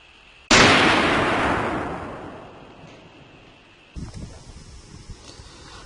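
A single 7.62x39 AK-47 rifle shot fired at a steel plate: one sharp, loud blast with a long decaying echo rolling off over a few seconds, followed by a smaller clatter of rustling, no speech.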